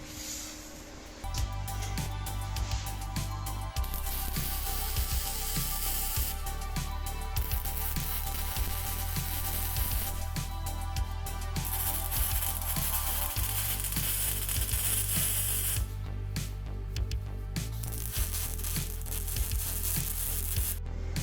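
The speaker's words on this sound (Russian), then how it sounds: "Поэтому сначала мы провариваем вертикальные, чтобы не сжало." Welding of a steel trapezoid table frame in a workshop, heard as a steady close crackling sizzle with a continuous electrical hum that runs nearly the whole time with brief breaks.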